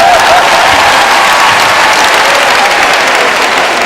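Audience at a stand-up comedy show in Abidjan applauding and cheering, a dense, steady wash of clapping and crowd noise that fills the whole span at high loudness without a break.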